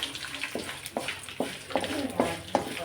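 Tempering ingredients fry in hot oil in a pan before curry leaves go in, a steady close sizzle broken by several sharp bursts of crackling and stirring scrapes at roughly regular intervals.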